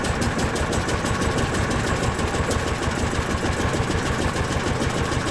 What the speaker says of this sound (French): C'est donc la prise de force sur le tracteur qui va entraîner, grâce à une courroie tendue, toute la mécanique ingénieuse de la batteuse.